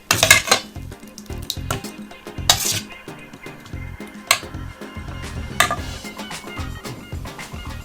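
Dal makhani, a creamy Indian lentil curry finished with chili oil, being ladled into a bowl, with repeated clinks and scrapes of utensils against pots and dishes at close range, no talking.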